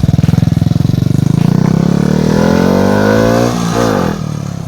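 A motorcycle with an aftermarket hidden-muffler exhaust revs up close and loud. It pulses at idle, then climbs into a smooth, rising drone and eases back off.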